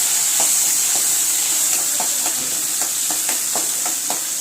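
Shallots and curry leaves sauté in hot sesame oil for a tamarind kuzhambu, a steady close sizzle with faint stirring taps scattered through it.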